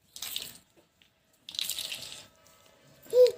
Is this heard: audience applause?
no